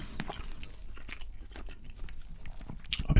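Burger King food crunched and chewed up close for ASMR, with repeated sharp bites and wet chewing clicks in an uneven rhythm and a loud crunch at the end, no talking.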